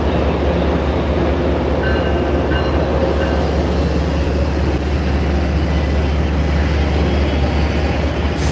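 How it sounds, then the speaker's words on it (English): An MBTA diesel locomotive hauls a train out of the station at rush hour, giving a loud, steady engine rumble and rolling rail noise that holds constant throughout, close by, with no voices. "I think this may be the MBTA's last generation of diesel locomotives."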